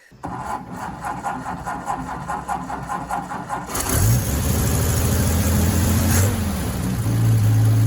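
A 1999 Jeep Wrangler Sahara TJ engine cranks and starts partway through, then settles into a loud, steady idle with a deep rumble close by.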